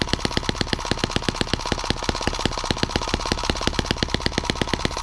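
A small M17B engine idles low right after its first start, a steady rapid chugging of even firing beats with a sharp regular tick, close and loud throughout with no voices.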